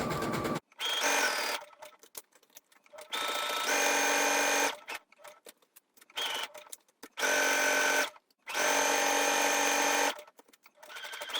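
A home sewing machine stitches a star-shaped fabric patch, running in several bursts of steady whirring with short stops between, including a quick forward-and-back tack at the start, close and clear.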